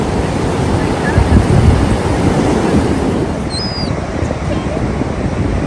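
Big ocean waves crash and roll steadily onto a beach, a loud continuous surf wash with wind buffeting the microphone throughout.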